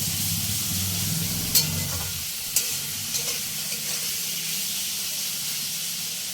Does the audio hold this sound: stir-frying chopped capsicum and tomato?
yes